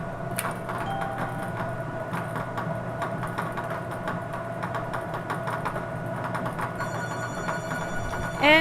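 A telephone rings for an incoming caller at a televised bingo game, a repeated electronic bell-like trill pulsing steadily over a low background hum, moderately loud with no talk.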